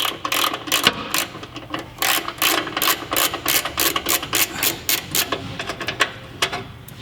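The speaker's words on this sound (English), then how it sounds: "take a 12mm socket or end wrench and pull this one bolt right here" A 12mm socket wrench ratchets a bolt loose from a brake line bracket during Toyota Tacoma rock slider installation, giving rapid, regular, close clicking strokes in steady bursts over several seconds.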